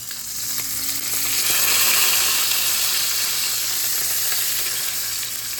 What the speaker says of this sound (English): now you can see that is a nice sizzling crust on there